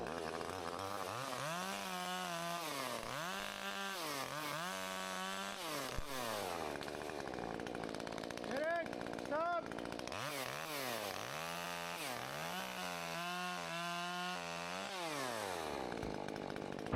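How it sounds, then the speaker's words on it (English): A chainsaw runs continuously nearby, its engine pitch rising and falling repeatedly as it bites into the branches of a large tree and revs between cuts. "I'll take the chainsaw on the next one."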